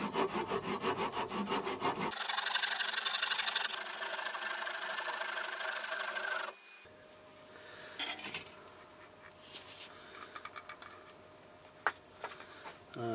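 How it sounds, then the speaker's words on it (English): A handsaw cuts through the ends of a turned wooden rolling pin in rapid, rhythmic rasping strokes, close and loud, then gives way to quieter scraping and handling noises. "I'm just going to cut off the ends of it here with it with a saw"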